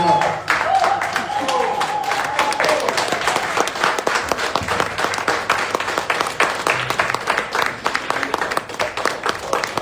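An audience at a Know Your Rights community event at Ausgang Plaza claps steadily for reggae artist King Shadrach, the dense applause running unbroken at close range under a raised voice and some crowd noise.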